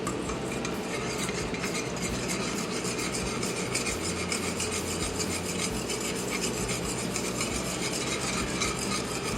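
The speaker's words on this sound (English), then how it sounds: "I've selected this beautiful metal spoon to use" A metal spoon stirring a thick cannabis gummy mixture in a pot over medium-high heat, a continuous close rasping scrape with faint metallic clinks, steady for the whole stretch.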